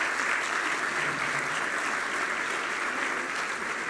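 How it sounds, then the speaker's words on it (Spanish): An audience at the inauguration of an International Data Protection Day event applauds in a steady, dense wash of clapping that holds evenly throughout. "despidámoslos con un fuerte aplauso"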